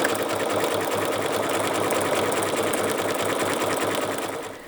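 Sewing machine stitching a flower appliqué onto fabric, running at a steady even pace with a continuous rapid needle rhythm, close and fairly loud, easing off slightly at the end; no talking.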